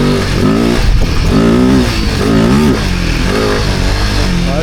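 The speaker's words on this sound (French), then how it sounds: "et on met les gaz" A motorcycle on an off-road trail in Spain revs hard as the throttle opens, its engine note climbing and falling in a few loud, close surges with no talk.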